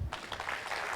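An audience at a World Stroke Support Day event applauding as a speaker comes up, a brief, soft wash of clapping in a hall, heard alone.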